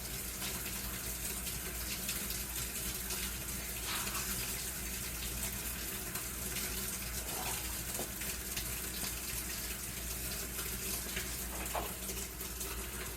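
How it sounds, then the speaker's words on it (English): Water leaks from a pipe in a steady, continuous rushing gush, a noisy flow that carries on without a break and with no one talking. "we're going to try to stop this leak before things get real bad"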